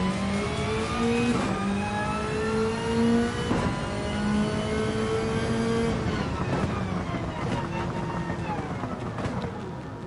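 Powerful race car engine in Gran Turismo 7 revving and rising through gears, harmonic whine climbing repeatedly with sharp shift breaks, loud and continuous with wind noise underneath.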